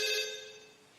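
A telephone in a TV drama gives one short, bright, harmonic ring, fairly loud at first and then decaying, with no talk over it.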